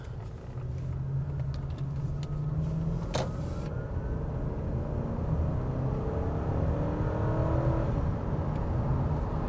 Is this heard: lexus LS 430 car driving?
yes